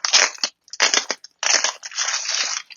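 Loud crinkling and crunching of plastic wrapping on a sticky notepad in several bursts with short pauses between them, close up and with no talking.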